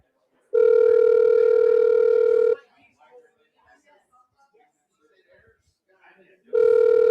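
Two long telephone ringback tones, one near the start and one returning at the end, separated by a quiet pause with faint background sounds.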